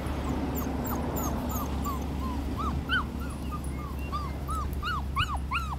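A Bordoodle puppy whimpers outdoors in a rapid series of high, rising-and-falling whines that grow denser and louder toward the end, over a low steady background hum.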